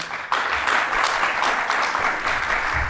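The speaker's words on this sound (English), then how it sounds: "Clap if you think that one." Audience applause at a San Diego Comic-Con panel comparing Supernatural and The Boys, a burst of clapping that starts abruptly and holds steady and fairly loud to the end.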